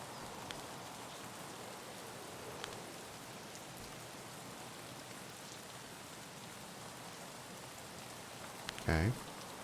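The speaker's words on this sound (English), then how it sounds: "I love this rain so much, man." Rain falls steadily in the video game Escape From Tarkov, a faint, even hiss with scattered drops throughout, and a short sharp noise breaks through near the end.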